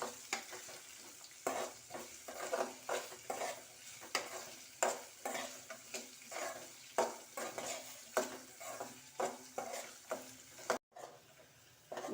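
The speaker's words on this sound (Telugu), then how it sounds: "ఇప్పుడు ఈ ఉల్లిపాయ ముక్కలు బాగా మంచి కలర్ వచ్చేంత వరకు వేయించుకోవాలి." Chopped onions fry and sizzle in a pan while a spoon stirs them, a steady hiss broken by regular scraping strokes against the metal. Near and fairly quiet, with no speech.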